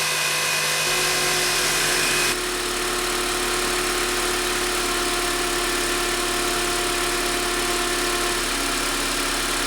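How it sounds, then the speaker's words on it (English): A noisy, failing alternator on a 2004 Honda Accord 2.4L engine whines steadily over the running engine, close and continuous with a hum underneath, and no one speaks. "that alternator is making a lot of noise."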